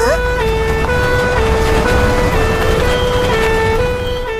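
A fire engine siren wails loudly and continuously as the truck arrives, joined by vehicle rumble in an animated neighbourhood scene where a fallen tree needs clearing.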